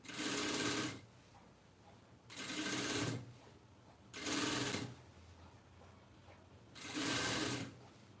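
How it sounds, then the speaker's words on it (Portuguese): A sewing machine stitches fabric for an ecobag in four steady whirring runs of about a second each, separated by short pauses, close and even in level. "costurando"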